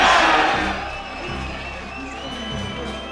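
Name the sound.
darts crowd cheering at Circus Tavern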